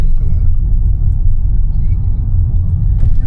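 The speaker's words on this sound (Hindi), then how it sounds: "दर्शन भैया गाड़ी चला रहे" A car driving on the road, heard from inside as a loud, steady low engine and road rumble, with someone talking over it.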